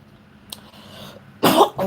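Two short, harsh coughs burst out near the end after a quiet stretch, close and fairly loud.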